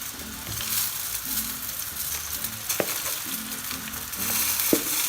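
Minced lamb fries with onion and carrot in a pan, a constant close sizzle broken by a few sharp spoon taps and scrapes as the meat is pressed and stirred.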